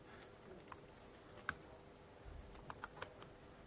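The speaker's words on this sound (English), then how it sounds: "Typing under pressure is never good." Faint, sparse clicks of typing on a computer keyboard, a few scattered keystrokes and a short cluster near the end against quiet room noise.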